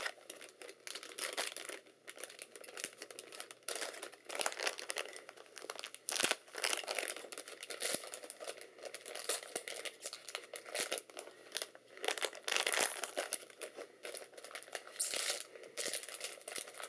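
Plastic and cardboard packaging for an Alienware Aurora R2 motherboard is cut open and unwrapped, with continuous close crinkling and rustling and occasional sharper tears and taps, no speech.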